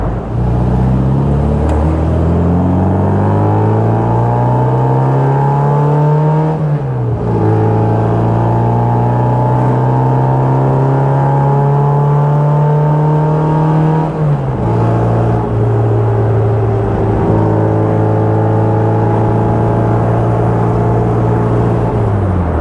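A 1960 Bugeye Sprite engine cruising at about 2800 RPM and 55 mph, a loud, steady drone with a rising pitch as it accelerates through the gears, dropping back at each shift.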